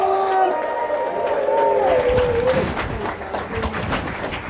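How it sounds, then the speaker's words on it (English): A theatre crowd at a live comedy show in Blackpool claps and cheers together, a loud continuous wash of applause with whoops and raised voices throughout, fairly close and sustained over several seconds. "1, 2, 3, start the applause. 4, start the cheering."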